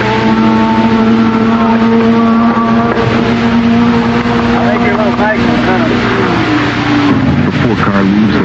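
Group 44 Triumph TR8 race car leaving the pits at Sebring during the late laps of a roughly 12-hour endurance race, its engine droning steadily and loudly throughout with shifting pitch, while a voice talks over it.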